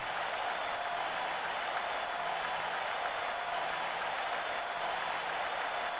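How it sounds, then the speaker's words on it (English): Synthetic crowd noise from a Sega Saturn basketball video game, a loud, continuous hiss-like roar that repeats on a short loop of about two seconds, with no talking over it. "Wow, the crowd noise is on like a 2-second loop."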